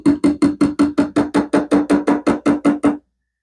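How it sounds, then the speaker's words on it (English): Thirteen or so steady, evenly spaced hollow taps on a sauce bottle, heard close and loud over about three seconds while sauce is coaxed out during cooking of crock pot creamy parmesan chicken and potatoes, ending abruptly. "I'm gonna tap a little bit."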